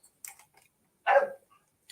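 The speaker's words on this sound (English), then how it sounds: "stop barking" A dog barks once outdoors, a single fairly loud bark after a couple of fainter yips, heard from a short distance.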